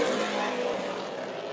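Race cars roar past close by on the final lap of the Chilly Willy 150 preliminary feature, a steady, loud engine drone holding for the whole stretch down the back straightaway.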